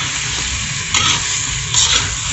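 Chicken curry frying in a pan is stirred in two distinct scraping strokes over a steady close sizzle, with no talking.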